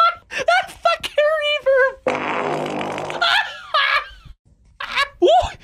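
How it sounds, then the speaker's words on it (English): A fart with heavy reverb rings out mid-clip as a sustained, echoing blast, surrounded by short spoken phrases and laughter before and after. "Farts are gross. They're funny, but that one had good reverb."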